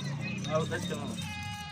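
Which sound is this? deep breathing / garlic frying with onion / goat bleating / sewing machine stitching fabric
goat bleating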